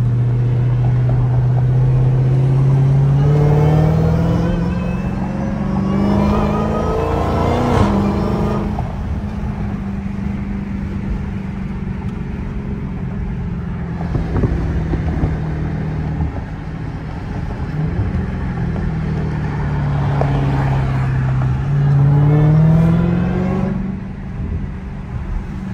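Dodge Challenger Hellcat Redeye Jailbreak driving through downtown Miami, its engine rumbling steadily and climbing in pitch as it accelerates in third gear, a sustained close drone with one rising pull near the start and another near the end.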